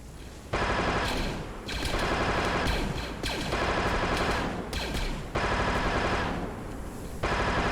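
Automatic gunfire in a video game, several loud bursts of rapid shots that start and stop abruptly, close and filling the whole stretch with no voices.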